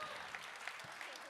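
Applause from a conference audience during a standing ovation at the closing of the New Harvest 2022 event, a steady wash of clapping with a few sharper claps standing out, fairly soft and distant.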